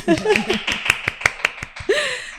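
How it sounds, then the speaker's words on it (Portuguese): Audience applause welcoming a guest, deputy Andréa Werner, on a podcast about school inclusion: a run of sharp, separate claps close by, with a voice talking over the start and again near the end. "Uma salva de palmas!"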